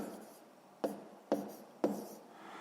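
A pen writing out a sixth-grade math calculation on paper, three short, distinct scratching strokes at roughly half-second intervals against a quiet room.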